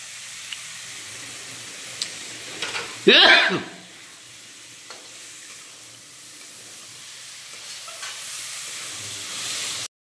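Boiled dal poured into a hot pan with eggs and spices, a sudden loud hissing sizzle burst that quickly fades into a quieter simmering hiss.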